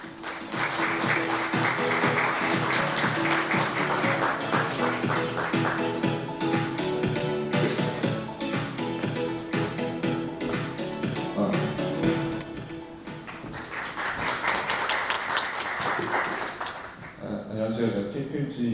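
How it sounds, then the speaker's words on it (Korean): Audience at a fintech and payments-industry seminar applauding to welcome a KPMG Digital speaker to the stage. The clapping is sustained and continuous over tonal background sound, then tapers off near the end. "KPMG 디지털본부 최흥범님 박수로 환영해 주십시오."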